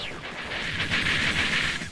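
A super shot in the arcade shooter Gunbird blasts apart a train car, a continuous roaring barrage of explosive game noise with a bright hissing top that swells slightly and holds loud for nearly two seconds.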